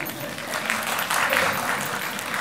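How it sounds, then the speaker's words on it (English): An audience at a college higher-education student conference applauds the staff members, a full, continuous round of clapping that swells slightly midway and carries on steadily to the end. "Give a round of applause to the members of staff."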